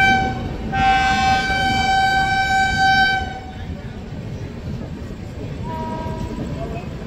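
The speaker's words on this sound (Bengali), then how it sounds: "ওই যে সামনের আলো দেখা যাচ্ছে সেটা হচ্ছে এনজিপি হাওড়া বন্দে ভারত এক্সপ্রেস, যেটা 1 নম্বর প্ল্যাটফর্মে রামপুরহাটে ঢুকছে।" The NJP–Howrah Vande Bharat Express enters platform 1 at Rampurhat as a loud horn blast rings out, rail rumble continues beneath, and a shorter horn follows, with a person talking over it.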